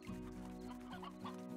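Faint clucking of chickens in the video game Slime Rancher, a few short clucks over a steady background music drone.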